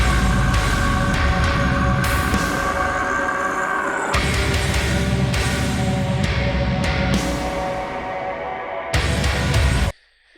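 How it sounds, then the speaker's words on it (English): Heavy metal song breakdown played back from a recording, loud dense distorted guitars and pounding drums with abrupt stops and restarts, ending in a sudden cut. "End of the song's breakdown."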